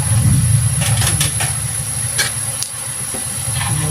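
Garlic leaves added to a hot cooking pot: a loud, steady sizzling hiss that fills the whole stretch, with a few faint clinks over it.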